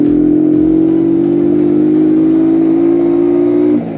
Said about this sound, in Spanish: Sí te da respuesta el motor